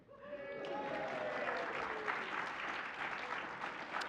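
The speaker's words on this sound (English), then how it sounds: "this last one is also worth applause and snaps" Applause and finger snaps from a Unitarian Universalist congregation during Sunday worship, a steady, moderately loud wash of clapping that builds and holds for several seconds.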